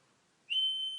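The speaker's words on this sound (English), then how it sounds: "And this is the whistle." A whistle sounder in a Squishy Circuits kit starts abruptly partway through, a clear, loud, sustained high-pitched tone following near silence.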